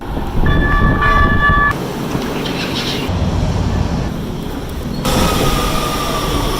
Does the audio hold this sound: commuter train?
yes